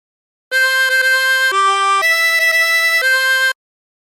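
A harmonica plays a melodic phrase of Oh My Darling Clementine without bends, several sustained clear notes with a few quick repeated tones, moving up and down in pitch, played solo with no talking.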